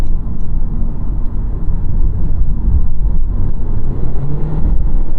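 A Honda HR-V's 1.8-liter multi-port injection, naturally aspirated four-cylinder engine accelerating, a loud, steady low drone heard from inside the cabin with road rumble underneath.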